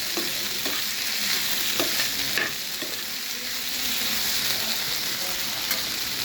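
Flat beans with garlic and salt fry in a pan for a bean and potato stir-fry, hissing steadily while a spatula scrapes and taps now and then, close and clear without talk.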